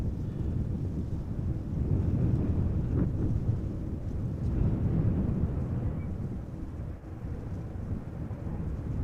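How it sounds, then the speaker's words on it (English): Gusty wind blows at Amsterdam Schiphol Airport on a showery day, a steady low roar buffeting the microphone, rising and falling slightly without a break and heard alone. "once again the wind is picking up a bit"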